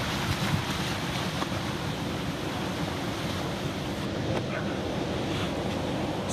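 A jet ski on big ocean waves, heard as a continuous roar of engine, surf and wind noise, with no clear break or talk.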